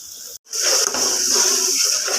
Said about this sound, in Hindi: अब इसमें मैं थोड़ा सा पानी ऐड करूँगी